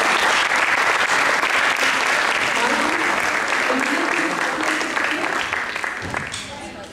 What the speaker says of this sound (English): can we give them a round of applause one more time?